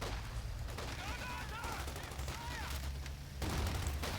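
Vickers machine gun firing in a World War II strategy video game, heard as a continuous dense crackle of battle gunfire, with faint voices and whistling effects over it and a slightly louder burst toward the end.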